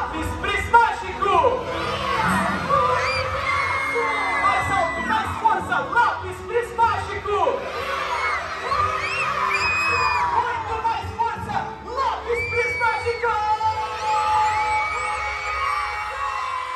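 A crowd of children at a live stage show shout a call-and-response line together, loud cheering and whooping rising in waves over music and a performer's voice.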